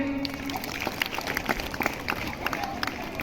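An indoor audience at a women's helpline gathering in Jhansi claps in scattered, uneven bursts at moderate distance, with faint crowd murmur underneath.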